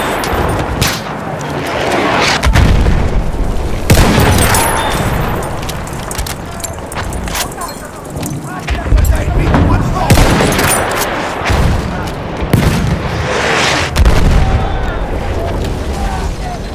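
Enemy machine gun fire in Battlefield 1 rattles in loud, dense bursts mixed with booming explosions and scattered gunshots across a chaotic battlefield, with a game voice calling out.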